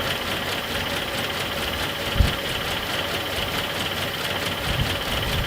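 A Nissan 720 ST Datsun truck engine, long sitting and just revived on its first start, runs with a dense, rough steady drone and a couple of faint knocks, close and without talk.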